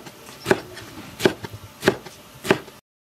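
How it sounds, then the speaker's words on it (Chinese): Four evenly spaced, crisp knife chops cut through dandelion greens, each a sharp close thud with brief pauses between, then silence. "把蒲公英切碎挑"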